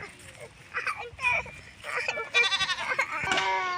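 Goats bleat several times, close by and loud, in quick wavering cries mixed with people talking.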